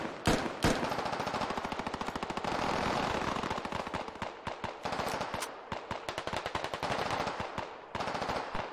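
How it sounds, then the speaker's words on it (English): Machine gun fire in the tactical shooter game Squad: a couple of sharp single shots, then long sustained rapid automatic bursts with brief gaps, dense and rattling throughout. "More shots coming out here from Cody."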